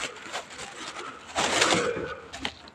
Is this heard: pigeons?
yes